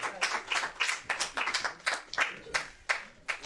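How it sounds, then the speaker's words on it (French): Applause for brother Carlos at a Cheikh Anta Diop Day event, a small group clapping in uneven, distinct bursts, fairly close and modest in volume. "Vraiment beaucoup d'applaudissements pour le frère Carlos"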